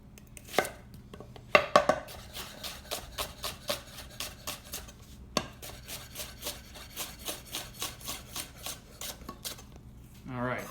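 Shallots sliced lengthwise with a knife on a board, a quick run of crisp close chopping taps in a fairly even rhythm, with a brief pause midway and a short rustle at the end, no talking.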